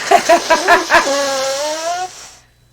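A dog on a homestead gives a quick run of sharp, close barks, then one drawn-out howling whine that fades to silence.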